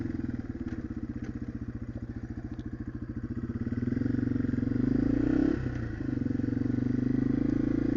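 A Yamaha TW200 motorcycle rides along a local street in Utah, its single-cylinder engine thumping close and loud, pulsing at low revs and then swelling into a smoother, rising drone as it picks up speed.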